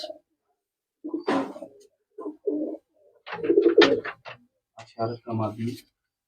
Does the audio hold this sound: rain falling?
no